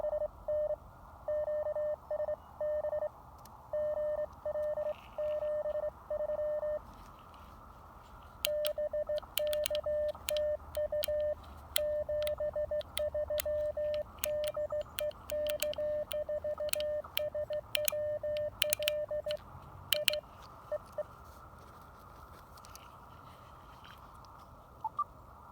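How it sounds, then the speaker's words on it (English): Morse-code-like amateur radio tones from an Icom IC-703 Plus in a portable field setup, a steady keyed beep in short repeated bursts that drops out and returns, over a low hiss with sharp static crackles. "You hear the fading happening?"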